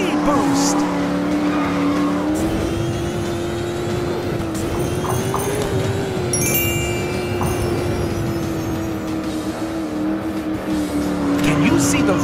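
Cartoon monster trucks race over speed-boost pads in a children's racing video game, a loud continuous engine drone with tire skids and brief bright game effects layered on top.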